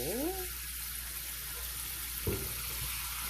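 Cold tap water pours over boiled bean sprouts to cool them, giving a continuous hissing splash with a brief rising sweep at the start and a short clatter partway through.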